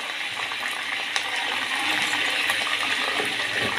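Onions and peppers sauté in ghee in a pan, giving a steady close sizzle with small crackles and stirring scrapes and no voices.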